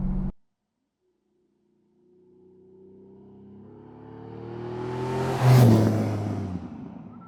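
A Lamborghini Diablo VT with a V12 engine accelerates after a brief quiet gap, its rising roar building steadily into a loud, harmonically rich howl that peaks as the car passes close by.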